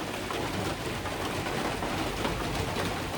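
Steady rain falls over Smoke Lake in Algonquin Park, a dense, even hiss of drops on water and surfaces continuing without a break, with no voices.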